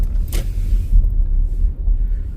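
A car approaching along a dead-end stretch of Pacific Street in Paterson, New Jersey, a steady low rumble rolling close with a brief brighter swish near the start.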